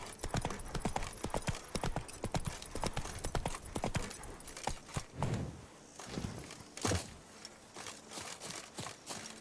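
Roach the horse's hooves clip-clop in The Witcher 3: Blood and Wine, a close, quick run of sharp hoofbeats that thins and slows toward the end, with a soft snort among them.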